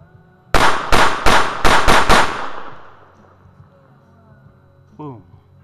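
A century-old Colt Model 1908 Vest Pocket pistol fires five sharp, loud shots in quick succession, each cracking close and decaying into a ringing tail before the range falls quiet.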